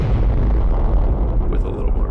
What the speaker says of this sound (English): And then I think I layered another distant explosion on there